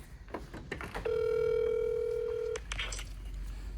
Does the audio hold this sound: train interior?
no